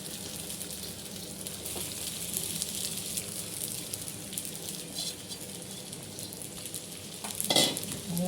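Sago pearls and potatoes frying and being stirred in a pan for sabudana khichdi, a steady hissing sizzle with light scrapes and a brief louder stir near the end.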